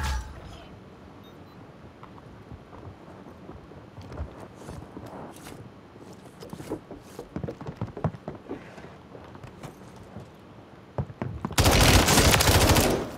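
Video game gunfire crackles in scattered rapid shots and short bursts at moderate loudness, then ends in a loud, dense spray of automatic fire.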